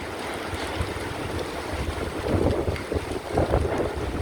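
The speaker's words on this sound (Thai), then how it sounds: "ลมแรงลมแรงมาก" Strong wind gusting across an open shopping-mall parking lot during a rainstorm, a roaring buffeting rush against the microphone that swells louder in the second half, with no one talking.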